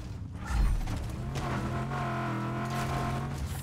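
A car is driven in the video game Just Cause 3, its engine giving a steady, fairly loud drone with mechanical rattling and no pauses.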